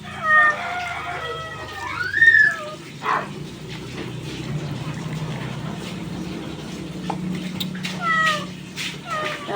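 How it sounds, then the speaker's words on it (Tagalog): A cat meows several times in a Filipino rural kitchen where anchovy paksiw is being cooked in leaves, with short rising cries early on and again later, over a steady low background hum. "Kulit ang pusa."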